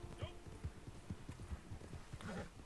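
Rapid clip-clop of horse hooves galloping at a steady rhythm, close and fairly loud, in the video game Red Dead Online, with a voice talking over it.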